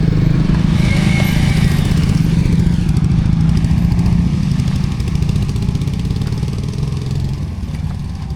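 A red motorcycle's engine idles steadily and loudly nearby, a constant throbbing chug that eases slightly toward the end.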